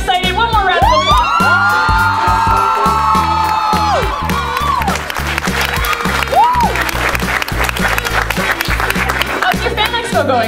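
Fan convention crowd applauding and cheering for a series cast on stage, a loud, dense wash of clapping and whoops layered over music with tonal swells, continuous throughout.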